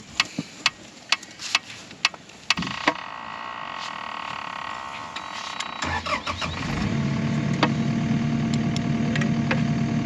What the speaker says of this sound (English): hop on the skid steer